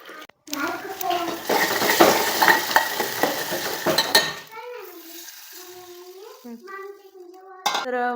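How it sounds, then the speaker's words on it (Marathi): Spices sizzle and crackle in hot oil while tempering kadhi, a loud, dense frying hiss with scraping and stirring for about four seconds before a voice takes over and the sizzle fades. "कढीला इथं फोडणी देऊन घेते"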